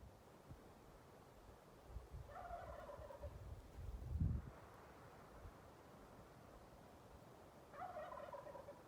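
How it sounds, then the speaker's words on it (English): Wild turkey gobblers gobbling in Arizona spring woods near a ridge, two faint, distant rattling gobbles several seconds apart over a soft wind hush, with a low thump between them. "Here's where all those gobbles are coming from."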